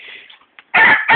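A chicken clucks loudly and close by in short squawking bursts, with a fainter call before them.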